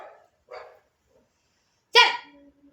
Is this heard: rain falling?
no